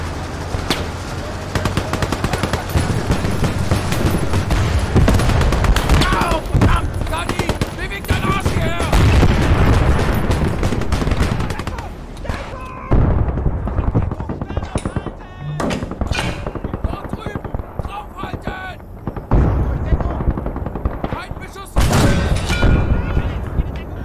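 Sustained WWII gunfire in Call to Arms: Gates of Hell, with rifle shots, machine-gun bursts and heavy booms from a German advance through occupied buildings. The firing is dense and loud for about twelve seconds, then turns sparser with scattered distant shots and thuds.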